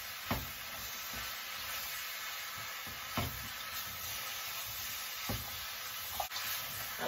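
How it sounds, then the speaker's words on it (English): Garlic and vegetables sizzle steadily in a hot stir-fry pan, a soft continuous frying hiss broken by a spatula scraping and stirring every couple of seconds, close up with no voices. "I like stirring this constantly because I don't want it to get burnt."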